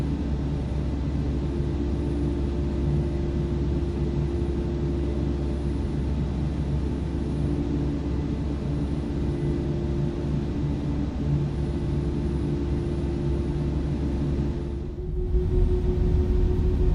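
Fenix A320 airliner taxiing in Microsoft Flight Simulator, with a steady, loud engine rumble and broad hiss holding throughout, then a brief dip near the end before the drone returns.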